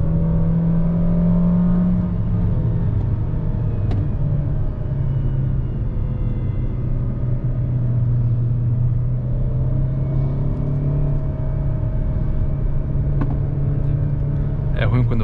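Jeep Renegade Longitude 1.8 Flex automatic, 2020, accelerating in a short second gear on a mountain road, a steady loud cabin engine drone with rising rumble, heard from inside the car.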